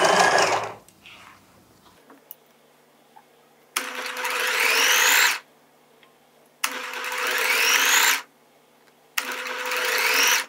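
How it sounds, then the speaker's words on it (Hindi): A sewing machine runs a doubled seam on folded fabric in three steady, whirring bursts of about a second and a half each, with short pauses between them, after a brief fabric rustle at the start. "अब जब डबल सिलाई लगा रही हूँ तो भी इसमें किसी किस्म की चुनट नहीं बन रही"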